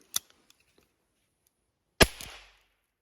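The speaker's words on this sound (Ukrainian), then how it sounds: "Спробуємо вистріляти флобер на диму." A Safari 420 Flobert rifle fires on a shooting range, one sharp close crack followed by a short decaying tail, preceded by a faint click and a few small mechanical ticks in otherwise near silence.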